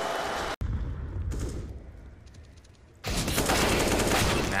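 Gunfire from a Desert Eagle pistol in a CS:GO esports match, loud and booming, blending into a dense wash of game noise that drops briefly and then surges back strongly near the end.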